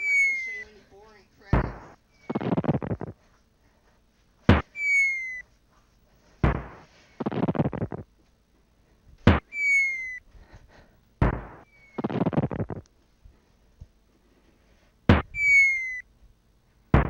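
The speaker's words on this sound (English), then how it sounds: "I'm just gonna show you the fireworks" Fireworks from the ending of the Super Mario World video game: sharp launch whistles followed by spread-out crackling bursts, about six volleys in a steady rhythm, loud and alone with no talk.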